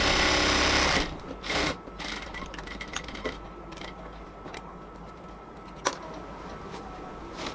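Sewing machine stitching cotton palazzo pants, a short loud run of fast stitching, then quieter intermittent clicks and mechanical taps as the fabric is handled.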